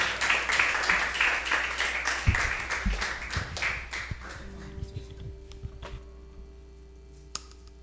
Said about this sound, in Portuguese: que as palmas louvem ao Senhor neste momento